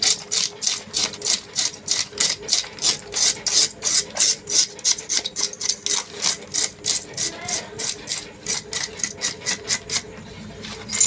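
Fish scales scraped off with a blade on a wooden board, heard as a long series of rhythmic, gritty rasping strokes, close and steady, about three to four per second.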